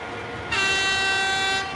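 A freight train rumbles past with a steady blast of its horn sounding for about a second over the rolling noise.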